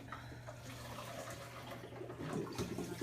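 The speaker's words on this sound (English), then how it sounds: "I'm going to pour out the excess water" Excess water poured off a cooking pot of potatoes in a kitchen, a soft continuous splashing stream running steadily throughout, faint and without talking.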